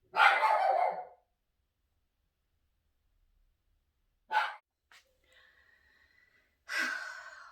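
A dog barking inside a house, in three short separate bursts with quiet gaps between them, and a faint whimpery sound in the middle.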